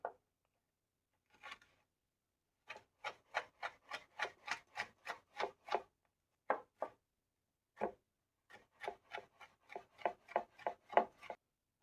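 A knife slices vegetables very thin on a board for a Kenyan samosa cabbage filling, giving bursts of quick, evenly spaced chopping strokes, close and crisp, with brief pauses between runs.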